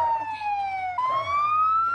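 Wailing ambulance siren in BeamNG.drive, a clear pitch sweep that drops, jumps back up and climbs again, fairly loud over a low engine hum.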